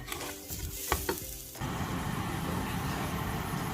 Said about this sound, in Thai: นำพริกลงคั่วต่อให้สุกหอมค่ะ